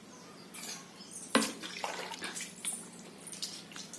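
Water is poured and splashes while fish are washed, starting with a sharp splash and followed by irregular trickles and drips, nearby and fairly quiet, with no talking.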